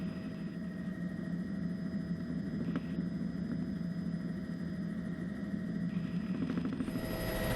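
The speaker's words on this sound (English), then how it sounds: "A morning helicopter flight takes off from the hillside adjacent to El Mirador." A helicopter flies over canyon country in the Copper Canyon barrancas on a windy morning. Its steady engine and rotor drone runs loud and unbroken throughout, with no speech.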